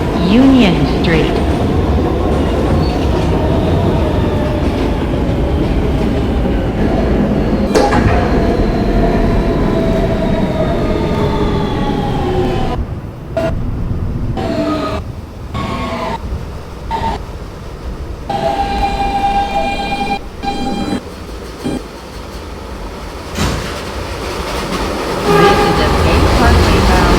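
A Siemens R160B subway car rolls on a W train toward Bay Parkway with a loud, steady rumble and rail noise, easing off midway amid brief gaps, clunks and a door chime, then picking up again, with announcements over it.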